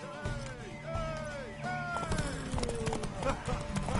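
Horse hooves clip-clop rhythmically with a whinny in The Witcher 3 video game, mixed with game music and effects and talk over the top.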